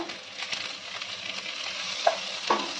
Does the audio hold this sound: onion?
yes